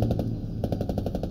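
Rapid automatic gunfire in a video game pours into a building as a steady, dense stream of loud shots with a short break midway.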